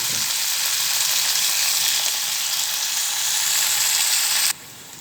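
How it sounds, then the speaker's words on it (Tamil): Onion, coriander leaves and curry leaves fry in hot oil in a pan for a dried anchovy and cowpea kara kuzhambu, giving a steady, close, loud sizzle that holds evenly and then cuts off abruptly near the end. "இப்போ இந்த வெங்காயத்தை இதோடு சேர்த்துக்கிறேன். வெங்காயம், கொத்தமல்லி தழை, கருவேப்பிலை 3 இது நல்லா வதங்கி வரட்டும்."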